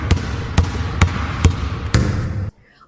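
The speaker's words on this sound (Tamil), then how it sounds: "இந்த நேரத்துல ஏதோ ஒரு பந்து சத்தம் கேக்குது" A ball bounces five times at a steady, unhurried rhythm, each thud sharp and fairly close, over a low murmuring background, then the sound cuts off into near silence.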